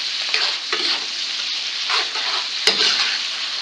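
Fresh pappardelle with mushrooms being stirred and tossed with grated parmesan in a pan, a steady soft sizzle under scraping and mixing strokes, with a sharp clack near the end.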